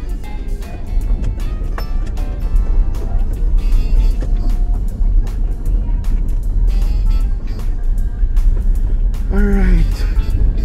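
A low-slung car with a manual gearbox drives along roads on Siquijor island, engine and tyre noise rising and falling with gear changes while people talk inside the cabin.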